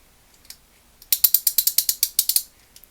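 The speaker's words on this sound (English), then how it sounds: "That's the old pawl in there. See it clicking." A Plomb/Proto 5249 ratchet fitted with an old pawl clicks in a fast, even run of about a dozen sharp metallic ticks, close and loud, after a couple of isolated clicks, with no talking.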